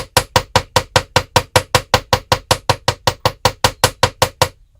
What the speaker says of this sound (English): I'm going to hammer the whole thing.